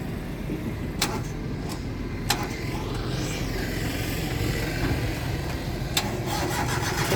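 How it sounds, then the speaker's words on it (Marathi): A car engine cranks and starts inside a village garage, settling into a steady running hum with a few sharp clicks and knocks over it; no voices are heard. "हा गाडी चालू झाली"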